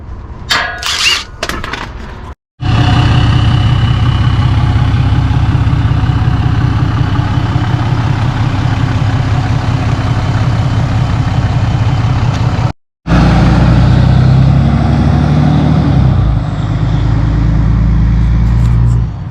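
A straight-piped 6.7 Cummins diesel truck engine rumbles loud and steady from start to finish, a deep continuous drone with only a couple of brief cutouts, and its tone shifts near the end as the truck drives away.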